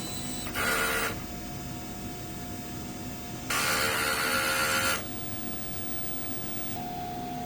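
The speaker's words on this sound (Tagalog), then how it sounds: "Dito naman yung printer head clean." A DTF printer whirs steadily during head cleaning while two bursts of loud hissing mechanical noise come and go, one short and one longer, with no talking.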